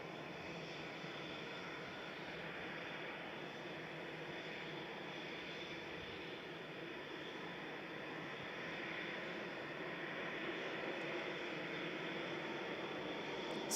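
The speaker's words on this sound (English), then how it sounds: "So, heading off to COS, just COS. Flight 2087, A320-200, it's GEZPD." An easyJet Airbus A320-200, registration G-EZPD, departs Manchester Airport as a steady, fairly distant broadband engine roar that holds evenly and swells slightly toward the end, with no talk.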